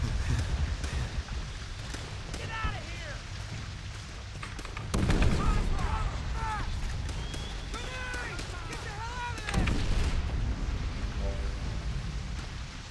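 Gunfire and explosions from the World War II shooter Call of Duty: World at War, with repeated sharp shots and heavy booms, loud bursts near 5 and 9.5 seconds, over steady battle noise with speech-like sounds mixed in.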